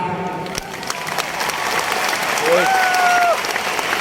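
Applause from an audience in a hall at a motivational business gathering, broad and sustained for about four seconds, with a faint tonal whistle-like sound rising midway and voices mixed into the crowd noise.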